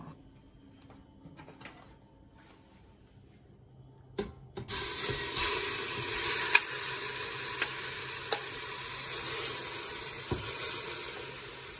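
Kimchi hitting a hot pot for a homemade kimchi stew sets off a sudden steady sizzle after quiet handling noises, frying loudly and evenly with a few small pops and stirring clicks.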